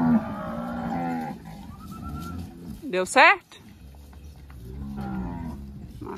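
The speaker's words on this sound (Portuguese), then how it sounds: "As vacas saindo do pasto." Nelore cows lowing on a farm as the herd leaves the pasture, several moos near and loud, with people talking over and between the calls.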